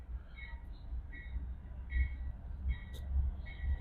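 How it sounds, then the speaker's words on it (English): A passing train gives a continuous low rumble with repeated thin metallic squeals riding over it, fairly close and steady throughout. "Oh man, here comes another train."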